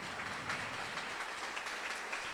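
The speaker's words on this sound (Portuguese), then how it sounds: "Vamos aplaudir Jesus bem forte." A church congregation applauding during a Sunday communion service, dense steady clapping filling the room at an even level throughout.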